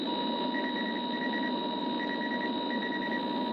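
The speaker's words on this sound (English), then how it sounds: "It allowed for some of the most interesting beeps and boops that I've ever heard." Electronic tones from the 1971 arcade video game Computer Space: a steady buzzing hum with repeated short high beeps in clusters, mechanical and continuous with no voices.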